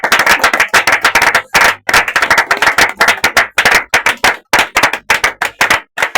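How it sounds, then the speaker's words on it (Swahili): A church congregation at a Wednesday service claps loudly in quick, rhythmic bursts, with short pauses between rounds and a faint crowd cheer mixed in. "tatu shangwe na vigelegele"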